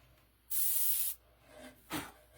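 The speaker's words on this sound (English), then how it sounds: "We'll start with a little bit of a light black spray here in the inner mouth" A light black spray paint being applied to the inner mouth of a resin shark model kit, one loud, steady hiss lasting about half a second, then quieter handling noises and a soft thump.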